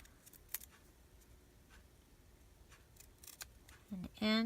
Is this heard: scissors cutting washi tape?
yes